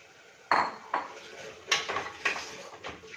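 Soaked rice is stirred into a spinach and vegetable masala mixture in a pot for palak biryani, with a spoon knocking and scraping against the metal in several close, distinct clanks.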